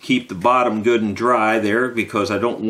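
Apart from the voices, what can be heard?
None of the usual background noises is heard.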